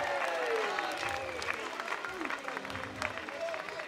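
Applause from an audience fills a concert celebrating 50 years of Monnikenheide, a steady dense clapping with some cheers, continuing through the whole stretch.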